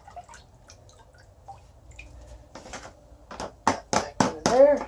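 Homemade compost tea made from fermented weeds draining out of a bucket, beginning as faint scattered drips and swelling into louder splashing pours and gurgles near the end, close up.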